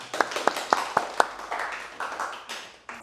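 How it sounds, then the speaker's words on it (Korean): A church congregation claps in welcome at a Sunday service, five sharp distinct claps near and fairly loud, followed by softer scattered clapping that trails off. "우리 나오실 때 우리 박수로 한번 환영하겠습니다"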